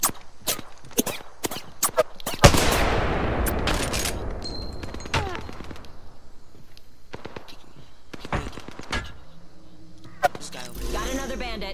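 Gunfire in Apex Legends, a battle royale video game: a burst of rapid shots, a loud blast near the start, then scattered single shots and clatter throughout, with game sound effects around them.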